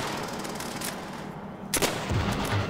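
An MG 42 machine gun fires in Call of Duty: World at War as a loud, sustained rattling burst, close and continuous, briefly interrupted by a sharper blast near the end.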